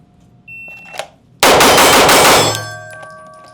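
A Staccato P4X pistol fires a rapid string of shots that blur into one loud, close burst, followed by a ringing tail and faint metallic pings. A few softer clicks and handling sounds come before it.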